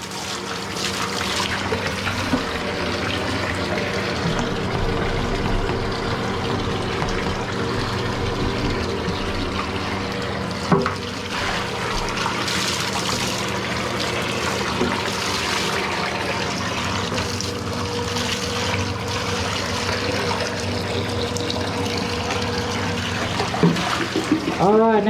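Water runs and rinses during house cleaning, a steady flowing wash with gurgling that stays continuous throughout, while a person talks intermittently over it.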